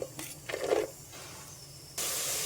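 Onions and green chillies dropped into hot oil in a rice cooker bowl give a short bursty sizzle, then quieter frying and a sudden loud steady hiss near the end, with no talk.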